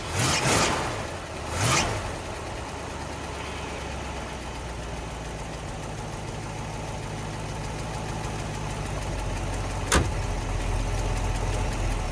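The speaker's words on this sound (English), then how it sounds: "It was a lot easier to start now that it's a bit warmer than I last drove this thing, and it almost idled." An old vehicle engine cranks and catches in a couple of short bursts, then settles into a low, steady idle that runs on, with one sharp click near the end; no voices.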